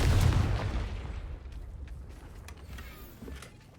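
A Confringo fire spell detonates in a Harry Potter video game, opening with a loud, deep boom that rumbles and decays into a fading crackle with scattered small debris-like ticks.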